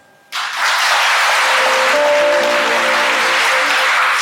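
Wedding guests break into loud applause after a brief quiet moment, and the dense, sustained clapping of a large crowd carries on to the end.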